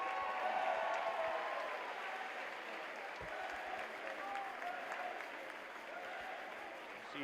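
A big crowd in a high school gym at Franklin High claps steadily through a break between quarters of a boys varsity basketball game, a dense, continuous wash of applause with faint voices mixed in.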